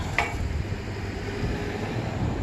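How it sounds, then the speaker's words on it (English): A car rolls through the wooden Holmes Creek covered bridge in Charlotte, Vermont, a low steady rumble with faint clattering over a quiet background. "Another car coming through."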